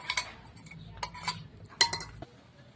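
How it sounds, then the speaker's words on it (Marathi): A spoon clinks and scrapes against a bowl while tempering is mixed into a carrot salad, a few sharp metallic taps and ticks over soft stirring, fairly quiet and close. "बनवलेला तडका सलाद मध्ये टाकायचं आणि मिक्स करायचं"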